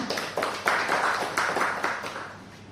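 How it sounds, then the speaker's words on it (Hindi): Clapping from a small group at a book launch, irregular claps fading gradually over a few seconds, moderately close. "एक बार जोरदार तालियां हो जाए"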